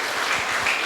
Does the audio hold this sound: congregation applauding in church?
yes